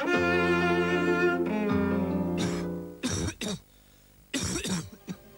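A sustained musical tone fades into a few sharp, close coughs in two short clusters, separated by brief quiet, in a Bronchikum cough medicine advert.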